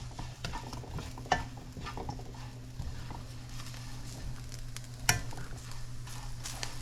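Grated coconut toasting in a pan is stirred with a spoon, giving quiet, irregular scraping strokes and soft knocks against the pan over a faint steady sizzle.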